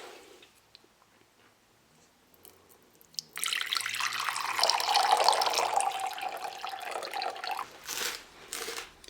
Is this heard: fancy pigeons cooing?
no